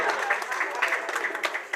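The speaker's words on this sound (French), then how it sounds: "Si c'est bon, on applaudit." Clapping from a crowd at a motorized parade for an association event in Yaoundé, a brisk patter of hands sounding close and lively through the short stretch.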